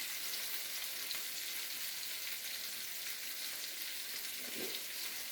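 Pangas fish fries crisp in a hot pan, giving a continuous, even sizzle up close, with a soft scrape from a stirring spoon near the end and no voices.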